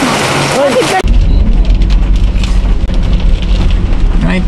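Heavy rain pours on a trip from Atok, Benguet to Baguio, a loud dense wash of drops that starts abruptly after a brief burst of voices.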